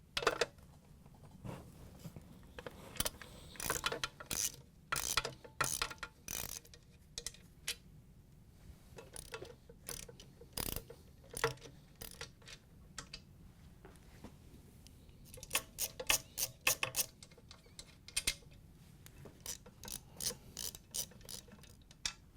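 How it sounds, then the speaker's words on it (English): A hand ratchet fitted with a large Phillips driver loosens the base screws of a KitchenAid stand mixer, giving close, irregular bursts of sharp ratcheting clicks with brief pauses between strokes. "we're going to use a ratchet with a large Phillips driver on it in order to get some torque on it"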